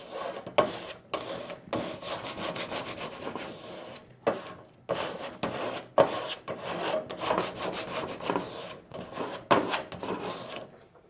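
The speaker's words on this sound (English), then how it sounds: "holding the center, burnishing out" Adhesive vinyl is burnished onto a surface with repeated close rubbing strokes, forming a rhythmic scratchy swishing with short pauses between passes.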